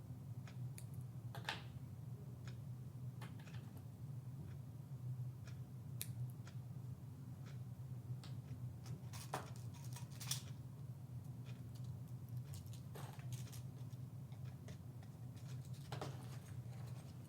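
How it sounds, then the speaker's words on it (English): Scissors snip the yarn ends on a finished knitted hat, making a few faint, sharp cuts spaced irregularly over a steady low hum, with no talking. "Scissors."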